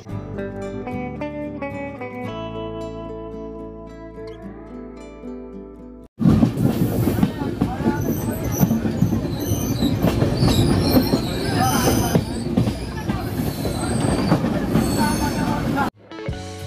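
A long passenger train runs near Mughalsarai on a Kolkata to Kashi journey, a loud roaring rumble of wheels and cars with squealing metal, preceded by a few seconds of music before the train noise cuts in abruptly.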